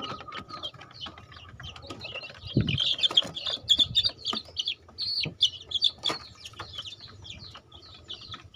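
Chickens cluck and chirp in a steady scattered chorus inside a simple breeding coop, with a few louder calls and some soft knocks in the background.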